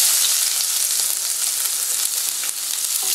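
Onions sizzle in hot oil in a copper-bottom tava for brinjal potato poriyal, a steady close hiss with faint stirring and no talk.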